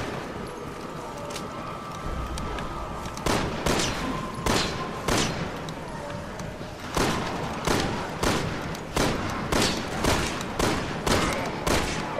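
A steady, moderately loud run of video game gunshots from Resident Evil 6, one sharp crack roughly every half second, over a constant background hum.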